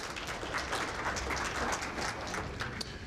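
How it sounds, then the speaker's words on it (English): An audience at a business presentation in South Dakota gives a brief round of applause, a moderate crowd of scattered, distinct hand claps at mid distance with no talking. "maybe that's another round of applause"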